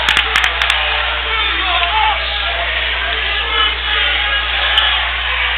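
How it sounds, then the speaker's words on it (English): A basketball crowd at a boys' high school game in a gym cheers and claps after a charge foul, a steady loud roar with a few sharp claps near the start. "you can hear it too. The crowd will let you know this is a fast-paced contest"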